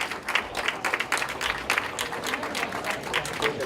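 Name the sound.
audience applause for the group's volunteers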